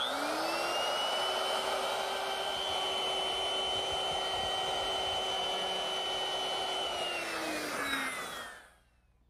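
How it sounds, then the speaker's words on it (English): A woodworking router fitted with a 1/4 inch round-over bit runs at a steady high whine for several seconds, loud and close, then winds down and cuts off near the end, with no talking. "I'm going to use my router. And I've set it up with a 1/4 inch rounding over bit."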